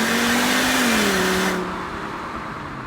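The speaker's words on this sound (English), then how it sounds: "The engine is fantastic, and the sound is wonderful as well." A mostly stock Volvo V70 engine revs up in a rising, then falling whine that holds loud before dropping away into a quieter idle-like drone.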